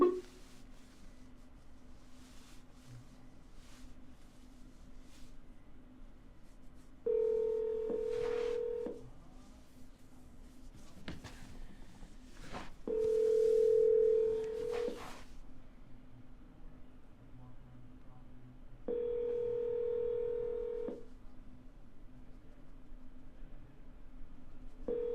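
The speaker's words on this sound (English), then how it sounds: "So let's give him a ring, actually." A phone dials out on a call: quick keypad tone bursts, then three long, evenly spaced ringback tones over faint line hiss, with no talking.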